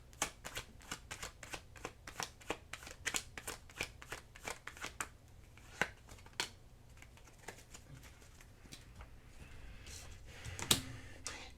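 Oracle cards being shuffled by hand, a quick run of crisp riffling flicks and soft slaps in uneven bursts, fairly quiet and close, easing off toward the end.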